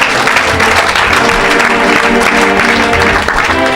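Enthusiastic applause and cheering from a large congregation at a gospel healing meeting, a loud dense roar of clapping sustained throughout with voices mixed in.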